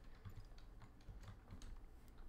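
Keys on a computer keyboard click in quick, irregular bursts during a PC session of the battle royale game Realms Royale. The tapping is faint and close, with no talking.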